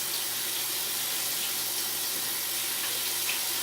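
Shirataki noodles rinsed under a running kitchen tap, a steady close wash of water hiss that holds an even level throughout with no voices.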